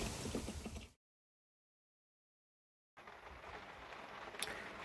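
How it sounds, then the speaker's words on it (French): Storm rain falls steadily around a parked camper van as a dense, even hiss, broken by a sudden stretch of silence before the downpour resumes. "ça fait que pleuvoir depuis tout à l'heure"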